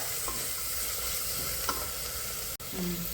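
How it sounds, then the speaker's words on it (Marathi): Masala rice made with Indrayani rice, salt and coriander being stirred and fried in a pan, giving a steady soft sizzle with occasional scrapes and clinks of a spoon, no talking. "छान असं परतून घेतले आपण।"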